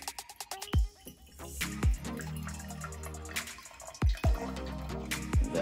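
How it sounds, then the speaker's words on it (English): About 100 milliliters of water is poured from a container into a lab beaker, giving irregular splashing and gurgling with a few sharp drip-like knocks, close and moderately loud, with no speech. "I'm going to grab my water, pour about 100 milliliters of water."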